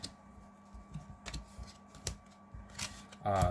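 Magic: The Gathering cards shuffled by hand, with quiet, irregular papery riffles and taps in short bursts, ending in a louder close rustle.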